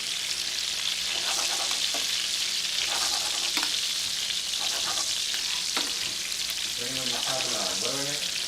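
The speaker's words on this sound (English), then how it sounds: "So we're just frying up our chicken cutlet." Chicken cutlet frying in a pan, a steady bright sizzle with occasional spoon clinks and stirring, while a voice speaks briefly near the end.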